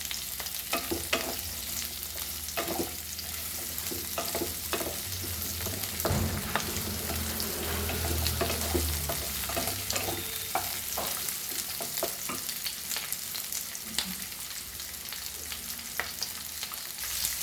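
Spring onions sauté in ghee on a high flame, a constant loud frying hiss with frequent scraping and tapping of a spatula in the pan over a low rumble, nearby and uninterrupted.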